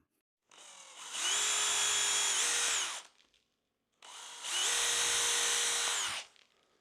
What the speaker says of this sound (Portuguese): Vou furar isso agora.